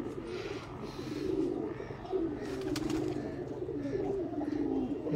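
Pigeons coo steadily at close range, several birds layering soft throaty calls in a continuous chorus at a kabootar bazi loft in Sialkot, Pakistan.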